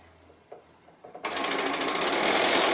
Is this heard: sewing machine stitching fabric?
yes